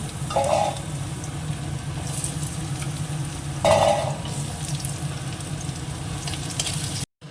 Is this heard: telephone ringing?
no